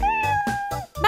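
Cartoon kitten meowing, several short, high, close mews in quick succession, loud and alone.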